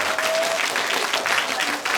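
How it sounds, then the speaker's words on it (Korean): High school students in an auditorium at a history lecture burst into loud applause, dense clapping filling the whole short moment at close range. "그럴 땐 박수를 크게 쳐야 돼요."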